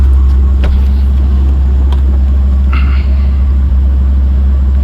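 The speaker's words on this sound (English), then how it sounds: "I'm gonna leave my truck running." A pickup truck engine idles with a trailer hitched on a road in Appalachia, a steady loud low rumble throughout with a few faint clicks and knocks on top.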